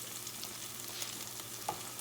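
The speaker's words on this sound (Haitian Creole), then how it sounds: "Pâte tomate là bien frit là-dedans." Tomato paste fries in a pot with a steady, close sizzle and soft crackling pops throughout, with no voices.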